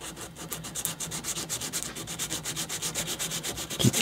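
220 grit sandpaper rubbing over a carved wood or micarta piece in quick, even back-and-forth strokes, a close, steady rhythmic scratching with no speech.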